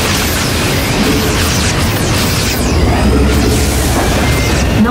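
Mortar shells exploding in a StarCraft II co-op battle with Raynor's Cap Troopers on Bel'Shir: a loud, dense, unbroken roar of booming blasts and crackling debris that keeps going without any pause.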